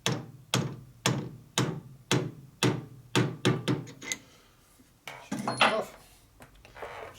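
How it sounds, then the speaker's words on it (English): A plastic hammer lightly taps a valve guide onto a pilot during a 1977 Harley-Davidson XLCR 1000cc Sportster ironhead cylinder head rebuild, about a dozen close, crisp knocks in a steady rhythm, then quieter scraping handling noises. "we just lightly tap this in with a plastic hammer"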